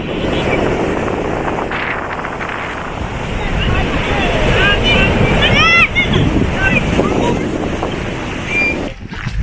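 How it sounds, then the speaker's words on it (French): Ocean waves on the Normandy coast rush and roar steadily against strong wind buffeting, with faint calls of seabirds in the middle; a loud, continuous outdoor wash of surf. "Oh les vagues de ouf."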